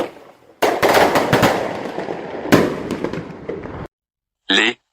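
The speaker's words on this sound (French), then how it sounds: "Les foguettes explosent dans le ciel avec un fracas de tonnerre." Foguettes, powerful firecrackers launched into the sky on bamboo sticks, burst in loud crackling, rumbling salvos one after another, with a brief gap and then a short sharp final blast.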